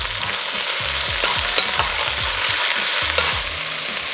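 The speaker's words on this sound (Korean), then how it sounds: "볶아줄게요." Green onion, bracken, radish, soaked shiitake mushrooms and minced garlic stir-fry in a pot, a continuous sizzle broken by repeated scraping strokes of the spatula, close and steady with no voices.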